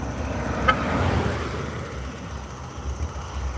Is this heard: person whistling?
no